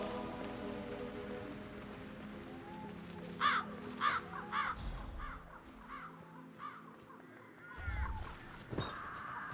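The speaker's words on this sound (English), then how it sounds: "Damn birds. If I could just get a clear hit on those nests." Several crows caw in quick succession at a distance in the video game Hitman 3, over ambient background and scattered low thumps. Faint talking runs beneath.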